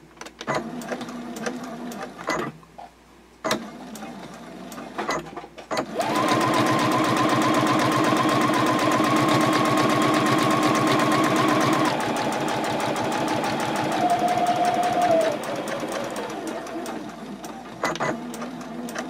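A sewing machine runs at a steady, even speed for about nine seconds, top stitching 1/8 inch from the folds of a fabric card clutch at stitch length 3.0, with quiet handling sounds before and after.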